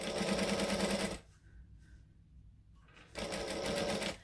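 Sewing machine stitching a travel bag at a long stitch length, running in two loud steady bursts separated by a quiet pause of about two seconds, with no talking.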